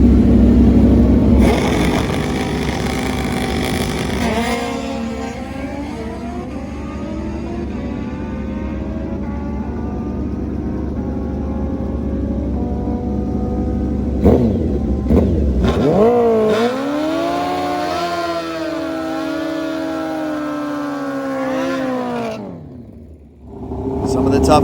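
Drag racing motorcycles, including a nitrous GSX-R 1000, roar through a first-round elimination launch, loud engines rising and falling in pitch with rapid gear changes, ending in a sharp drop; a commentator's voice runs over the engine noise.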